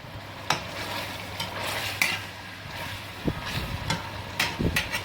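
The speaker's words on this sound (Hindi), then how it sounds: "ये देखें जी गोश्त कितना अच्छे से भुन रहा है।" Meat browns in a pan with garlic and ginger for haleem, giving a soft, steady sizzle broken by occasional sharp clinks and scrapes of a stirring spoon against the pot.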